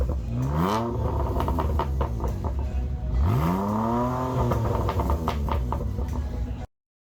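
A BMW M2 on slick tyres revs hard at a motor show, its exhaust rising and falling in two loud, close throttle blips with crackling burble between, alone without talk until it cuts off.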